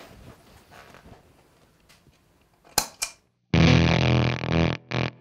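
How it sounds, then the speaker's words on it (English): An electric guitar runs through an EarthQuaker Dirt Transmitter silicon fuzz pedal, with a few faint picked notes, two sharp clicks, then a loud, thick fuzzed chord that cuts off and returns in a short burst. "When I want a fuzz tone, my dirt transmitter is still the first one I grab."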